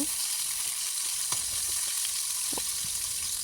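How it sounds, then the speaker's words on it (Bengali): Chopped onion fries lightly in a pan with bay leaves and cinnamon, a steady close sizzle with a few soft clicks and stirring taps scattered through, no voices. "পেঁয়াজ কুচিটা একটু হালকা ভেজে নেব"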